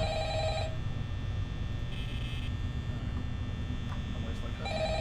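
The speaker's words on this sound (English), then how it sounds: "And that's the phone." Phone ringing in the horror game Five Nights at Freddy's, a steady electronic ring tone over a constant low hum that runs the whole time, with brief tonal bursts at the start and end.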